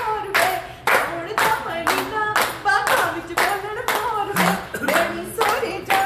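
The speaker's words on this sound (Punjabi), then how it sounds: "ਤਾੜੀਆਂ ਦੇ ਨਾਲ ਗੀਤ" Rhythmic group hand clapping keeps a steady beat along with a sung Punjabi folk song at a Punjab Day gathering in New York, with the singing voice clearly audible over the claps.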